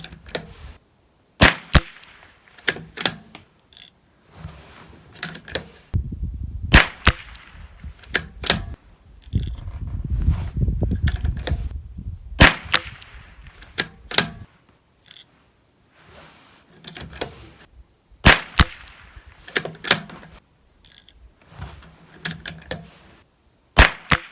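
A Ruger Precision Rimfire .22 LR rifle firing on a range, with sharp isolated cracks spaced by pauses and a longer low rumble in the middle, recorded near the shooter.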